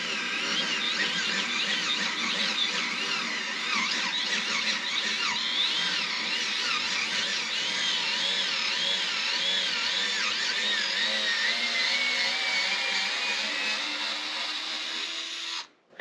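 A small 3.6-volt electric screwdriver drives a 100 mm screw with a steady, high whining buzz that holds without pause for about fifteen seconds, close and fairly loud, then cuts off abruptly.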